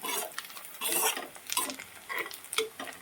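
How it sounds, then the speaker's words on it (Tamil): Onions sauté in a pan for a paneer palak dish, stirred until browned. Bursts of crackling sizzle come and go with the stirring, and a spoon clinks against the pan now and then. "வெங்காயம் நல்லா வதங்குதுங்க."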